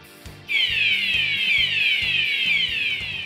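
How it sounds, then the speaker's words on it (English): A loud wailing emergency siren on an industrial worksite, sweeping downward in repeated cycles over a steady low hum, close and alone. "Emergency shall be notified by a wailing siren."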